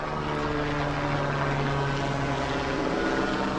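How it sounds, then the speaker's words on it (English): A helicopter passes nearby alongside a fire department response, its rotor and engine forming a steady, loud droning hum with a low tonal throb that holds evenly throughout. "I will wait for the fire department and helicopter to go by."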